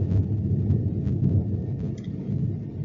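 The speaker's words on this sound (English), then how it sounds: "I don't know if you can hear the thunder and lightning that's going on in the background." Thunder from a storm outside a window rolls as a low, continuous rumble with a few faint crackles, fairly distant and muffled indoors.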